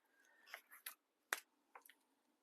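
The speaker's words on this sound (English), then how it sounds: "I'll take my scissors and snip that" Quick crisp snips, a couple of sharp cuts close by with brief rustles between, in an otherwise quiet room.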